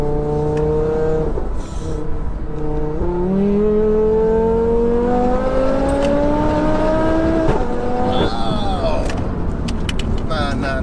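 A tuned Audi RS3 accelerates hard, its engine note climbing steeply through the gears with brief breaks at shifts, loud and close, with voices underneath.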